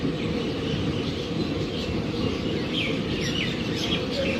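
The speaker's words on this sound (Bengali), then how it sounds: "পাখির কলতান শোনা যাচ্ছে।" Birds chirp and twitter at the empty Bankura Junction railway station in the early morning, scattered calls sitting faintly over a steady broadband hum.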